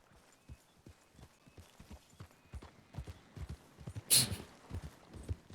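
Horse hooves clip-clopping in a video game, a steady walking rhythm of soft, close thuds repeating throughout, with a brief bright noise burst near the end.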